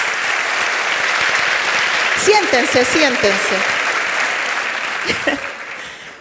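A book fair audience gives a warm, sustained round of applause for an author taking the stage, steady clapping throughout while she speaks briefly over it, asking them to sit.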